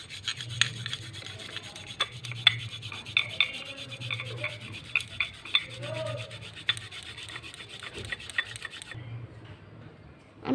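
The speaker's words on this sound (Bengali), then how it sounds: "এরপরে আমি একটা গোটা টমেটো ঘষে নেব।" A whole tomato is rubbed against a kitchen grater, giving a steady run of repeated rasping strokes, close and moderately loud, with a few light knocks and a low hum underneath, before stopping abruptly near the end.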